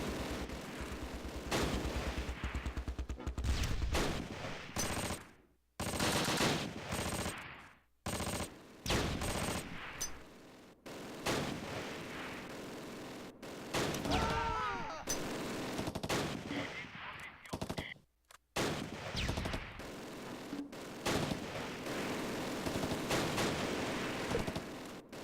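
Gunfire in the World War II strategy game Close Combat: Last Stand Arnhem: loud bursts of rifle and machine-gun fire in repeated volleys broken by brief silences, with occasional voices shouting in the game.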